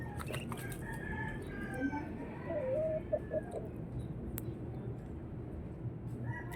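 Backyard farm chickens, with a rooster crowing among them, call repeatedly over a constant rustle of farmyard ambience, with a few sharp clucks standing out midway through.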